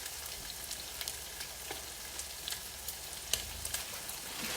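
A pork steak fries in a pan with a steady, fairly quiet sizzle, sprinkled with small crackles and pops throughout.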